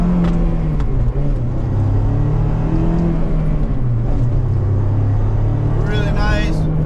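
A lowered 2005 Honda S2000 with a straight-pipe exhaust and short gearing drones steadily on a test drive, its engine note holding then rising near the end, with the cabin hum constant beneath.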